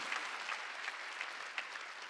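A church congregation at a Sunday worship service claps together, a soft, fairly distant patter of many hands with small bursts of louder claps standing out now and then.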